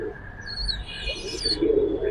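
L.R.B Giribaz pigeons in a loft give soft, low coos that swell near the end, mixed with thin high chirps and some light rustling.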